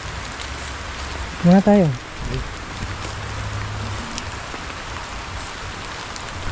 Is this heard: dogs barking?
no